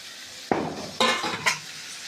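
Fried crab pieces and potatoes tipped into a pan of frying masala for kosha crab, giving three sharp clanks and sizzling bursts about half a second apart, close and fairly loud.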